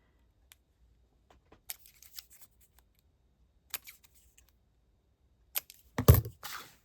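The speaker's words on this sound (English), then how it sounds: "I am going to snip corners." Sharp scissors snip the corners of cheap design paper for a pocket folio, a few quiet scattered cuts with a louder cluster of snips near the end, alone with no talk.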